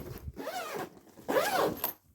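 A zipper on a new expandable luggage bag is pulled open in two long, close strokes separated by a short pause, loud and alone with no voices.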